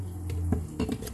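Tapioca starch stirred in a mixing bowl for steamed kusinta cake, with clinking utensil-on-bowl scrapes and taps repeating over a low steady hum, close and moderately loud.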